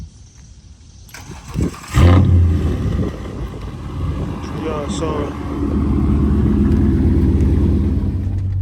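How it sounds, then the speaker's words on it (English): A Dodge Charger R/T V8 engine, warm rather than cold, cranks, catches with a loud roar and then settles into a steady, throaty rumble, with someone speaking briefly over it. "So let's crank it up. It's not a cold start."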